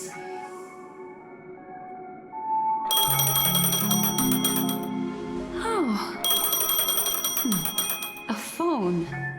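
An in-game telephone in Honkai: Star Rail rings in bright, repeating bell-like bursts over music, two loud ringing spells with a short gap, and a brief spoken exclamation near the start.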